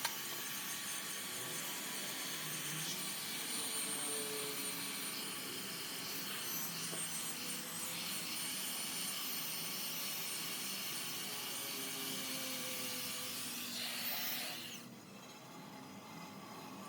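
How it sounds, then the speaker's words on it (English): A hand grinder fitted with a rotating wire brush scours black deposits off an engine cylinder head during a Caterpillar engine rebuild, giving a steady, continuous abrasive whir that stays fairly even for most of the stretch before easing near the end. "The cylinder head is cleaned with a hand grinder. A wire brush is attached to the grinder."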